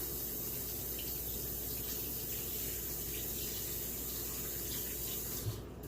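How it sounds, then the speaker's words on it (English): Tap water runs steadily into a kitchen sink as buttery hands are rinsed while baking apple cinnamon bread pudding, a continuous close hiss with no talk. "I'm going to wash my hands very quickly."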